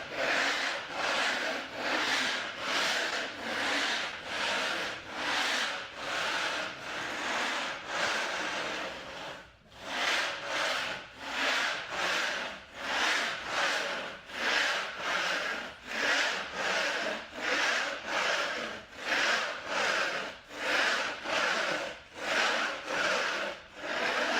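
A knife blade scrapes a still-tacky coating in steady back-and-forth strokes, a loud, close, rhythmic rasp that repeats about once a second with a brief pause midway and no voices over it.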